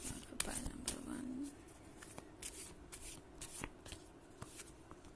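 Oracle cards are shuffled by hand for a solution card, a soft riffling and slapping that runs in quick bursts over about five seconds, fairly quiet and close.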